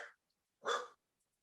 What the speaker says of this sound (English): My dog says hi.